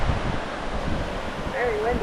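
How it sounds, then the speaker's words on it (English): Strong gusty wind at Devil's Bridge on Antigua roars and buffets the microphone in a continuous low rumble. Faint surf may sit underneath, and a thin whistling tone rises near the end. "Very windy."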